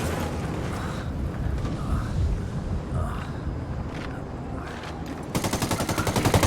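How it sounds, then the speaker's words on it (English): Automatic gunfire from a firefight at a camp entrance in Tom Clancy's Ghost Recon Wildlands, rumbling and crackling throughout, then closing with a loud rapid burst of regular shots. "Taking fire from the camp entrance."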